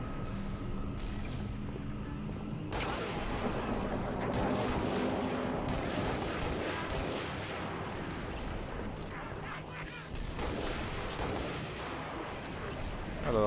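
Gunfire and explosions crackle through a Halo: Reach firefight, dense bursts of shots and booming impacts layered over continuous game noise for the whole stretch.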